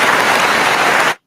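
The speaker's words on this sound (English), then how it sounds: "Believe it or not, that's clapping." Dense clapping from a group of people, a rapid hiss-like patter of many hands at close range, loud and continuous for about a second before stopping abruptly.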